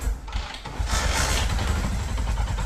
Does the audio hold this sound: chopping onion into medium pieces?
no